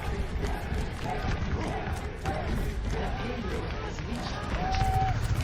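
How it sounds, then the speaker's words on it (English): An esports arena crowd roars at an Overwatch League 2022 playoff match between Hangzhou Spark and SF Shock, a dense, sustained cheer under excited commentary. "Crowd going absolutely wild for the play that Proper just made."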